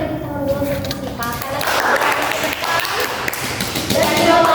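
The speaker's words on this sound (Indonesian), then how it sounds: "Mungkin bisa teman-teman beri tepuk tangan dulu untuk Teh Sipa" Classmates in a microteaching class clap for a presenter, a scattered round of applause that builds and continues, with voices talking over it.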